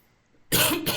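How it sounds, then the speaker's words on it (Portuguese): One sudden, loud human cough from an adult in an indoor online lecture setting, breaking abruptly out of near silence, close to the microphone and heard on its own without any talking. "a tosse pegou aqui hoje"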